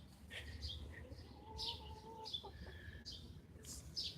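Chickens by a backyard coop, clucking and crooning softly in short scattered calls, one drawn-out call in the middle, over faint background noise.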